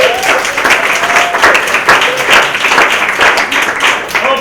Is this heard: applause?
yes